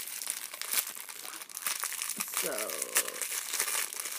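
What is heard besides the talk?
crinkling little plastic bag being opened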